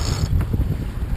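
A sailboat winch on a Seawind 1000 catamaran on Lake Macquarie being worked to tighten the headsail, giving close mechanical ratcheting clicks under strong wind buffeting on the microphone.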